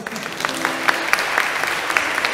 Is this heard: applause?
yes